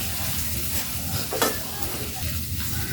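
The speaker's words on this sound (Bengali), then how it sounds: "এটা ভাজা হোক।" A continuous hissing sizzle rises from food frying in a large kadai, with a single clear spatula scrape partway through and softer stirring around it.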